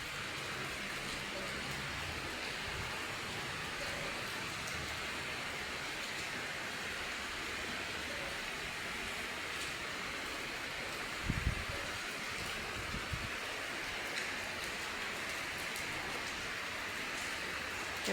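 Steady rain falling outdoors in the morning, a continuous even hiss throughout, with a couple of brief nearby knocks partway through and no speech.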